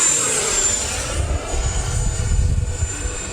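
An E-flite F-16 RC jet with an 80mm electric ducted fan passes overhead in calm conditions, a steady high whine over a low windy rumble, fairly close and alone without talk.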